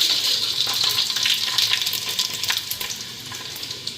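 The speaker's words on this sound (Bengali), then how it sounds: "শুকনা লঙ্কা পাঁচফোড়ন সম্বাদ দিয়ে নিই" Dried red chilies and panch phoron tempering in hot oil make a close, steady crackling sizzle with fine popping throughout.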